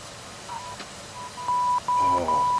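A Prepar3D flight simulator sounds a repeating electronic alert tone near Innsbruck, steady beeps growing louder and more insistent toward the end, with a voice talking beneath.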